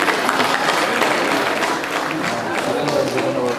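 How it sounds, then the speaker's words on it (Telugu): A crowd at the Telangana Renaissance Awards 2017 ceremony claps steadily, a dense, loud wash of hand claps that holds evenly throughout with a few voices mixed in. "చప్పట్ల వర్షం కురిపించాలని కోరుతూ"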